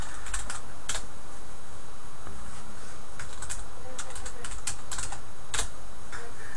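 Quick clattering keystrokes on a computer keyboard at a Windows 7 PC, coming in irregular bursts and single taps close to the microphone over a low background hum.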